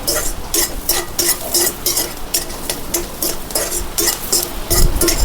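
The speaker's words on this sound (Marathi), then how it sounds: "हळद टाकून घेते परतून घेते" Turmeric tossed and stirred with a spoon in a pan with sautéed onion, a wild-flower vegetable dish in progress: steady scraping and clinking of utensil on metal with faint sizzling underneath, close and continuous without talk.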